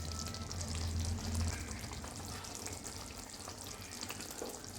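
Butter sizzling as it melts in a hot pan of hariali chicken, a steady close frying crackle with a low bubbling hiss, constant throughout with no talk.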